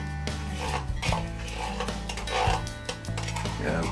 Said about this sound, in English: It's kind of gummy at the bottom, so try to scrape the rest of that out of there.